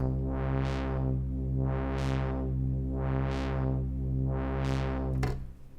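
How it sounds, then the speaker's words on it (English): A sustained Arturia Jupiter-8V synth tone with four evenly spaced, bright sequenced filter cutoff sweeps that open and close rhythmically, then abruptly cuts off. "It's generating filter cutoff values, and we can hear those filter spikes."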